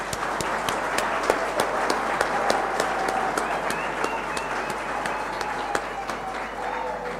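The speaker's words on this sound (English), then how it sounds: "I think a round of applause for all our graduates is in order." Steady, dense applause for graduates at an online graduation ceremony in South Africa, sustained and even throughout, with scattered sharper claps standing out from the crowd.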